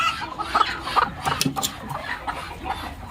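Chickens in a poultry shed with egg-laying boxes cluck in scattered short calls, fairly close, with faint background noise and no clear talk.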